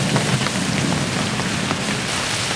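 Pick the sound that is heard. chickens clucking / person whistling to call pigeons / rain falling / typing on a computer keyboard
rain falling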